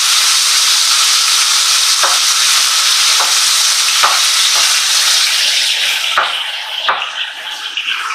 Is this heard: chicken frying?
yes